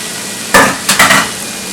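Sweet potatoes tumble into a pan of browning onions with a sudden sizzling crackle, followed by a couple of quick scraping stirs, close and loud with no voices.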